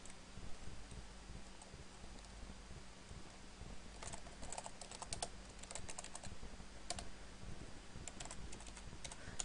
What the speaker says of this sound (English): I can either import it into a new group by typing the name of the group